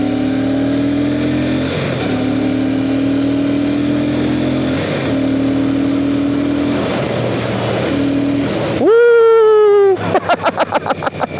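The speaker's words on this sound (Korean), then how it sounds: "RPM 올려보겠습니다." A Royal Enfield Classic 650 motorcycle's parallel-twin engine idles with a steady throb, then is revved hard, climbing to a high loud whine before dropping back with quick bursts of blips.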